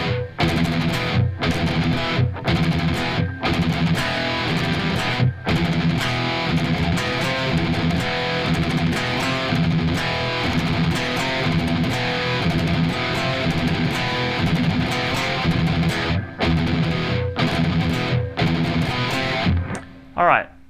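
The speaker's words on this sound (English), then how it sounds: "really fast double kick session where we have some fast picking going on" Dense, fast metal playing, heavily distorted guitar picking rapidly over pounding double-kick drums, loud and continuous until a brief stop near the end.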